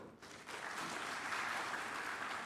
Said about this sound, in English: please give your hand to applauding Dr. Ko.